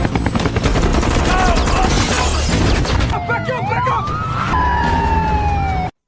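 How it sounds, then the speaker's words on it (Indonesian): Bursts of rapid gunfire rattle amid sirens and a droning helicopter in a loud, chaotic action scene, the noise cutting off abruptly at the end. "Tembakan pecah di mana-mana."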